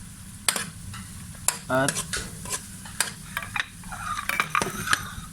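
Onion, garlic and smoked fish are sautéed in a pan while a utensil stirs, giving a low steady sizzle broken by sharp scrapes and knocks against the metal. Single spoken word is heard.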